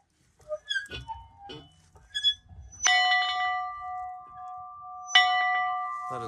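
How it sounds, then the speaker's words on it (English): Old dinner bell at a 1908 ranch farmhouse in Kansas, struck twice, each clang ringing out loud and long with a sustained metallic tone after a few soft knocks and shuffles. "I like this bell."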